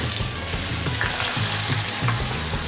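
Blackened catfish sizzles steadily in a hot pan, a loud continuous frying hiss with small crackles and pops throughout, no voices.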